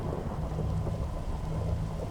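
A Minecraft thunderstorm, with steady heavy rain and low rolling thunder that rumbles continuously, moderately loud, with no voices.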